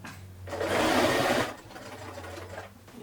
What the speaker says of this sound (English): I'm going to stitch down onto my original stitching line.